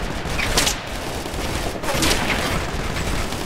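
Gunfire in the military shooter Operation Flashpoint: Red River, a steady crackle of shots with two sharper bursts standing out, loud and close in a combat scene.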